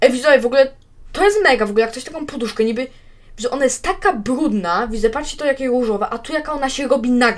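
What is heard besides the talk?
None of the usual background noises is heard.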